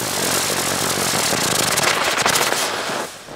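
A ground spinner firework (10er Twister) goes off on a forest floor, a dense, loud hissing crackle with rapid popping that runs for about three seconds before fading.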